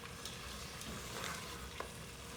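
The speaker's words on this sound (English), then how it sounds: "So I'm just going to keep stirring that" A lamb bhuna sauce is stirred in a pan, with a soft continuous sizzle and faint scraping of the spoon, quiet and close, no talking.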